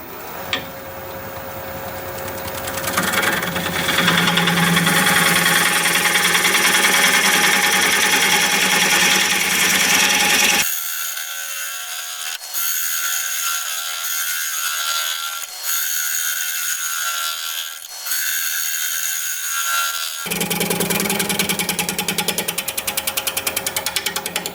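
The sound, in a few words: wood lathe turning a piece of unknown wood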